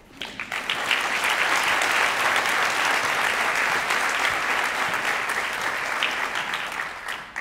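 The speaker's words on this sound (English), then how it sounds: "I'd like to give her a proper applause as well" Sustained audience applause fills a university nursing school white coat ceremony, a loud, steady wash of clapping from a large crowd that swells quickly and holds for several seconds before tapering.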